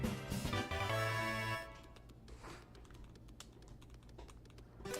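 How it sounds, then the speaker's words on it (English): In Pokémon Violet, a Pokémon's small feet patter in quick, light, faint taps that follow a brief sustained musical chime. "I love the pitter-patter of its feet."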